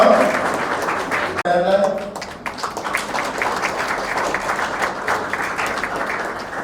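Wedding guests applaud in a sustained burst of crowd clapping that holds steady across the stretch, fairly close and loud, with a voice briefly heard near the start.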